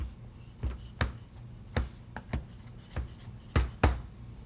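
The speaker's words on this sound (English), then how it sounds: "I think that's a good coarse chop." Knife strikes on a cutting board while shiitake mushrooms are coarsely chopped, about a dozen sharp, irregular taps at close range against a quiet background.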